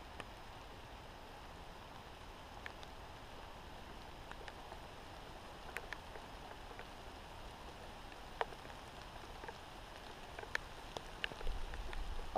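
Soft, steady rain falls outdoors as a faint, even hiss with scattered light drips and taps, alone and without voices, a little fuller near the end.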